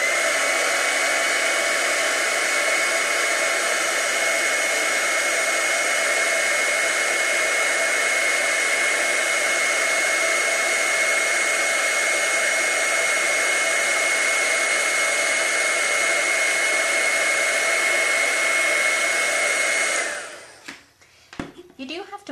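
A heat embossing tool blows steadily over cardstock to set glitter into heat and stick powder, producing a loud, constant whirring hum that runs uninterrupted for about twenty seconds before switching off, followed by a few handling noises.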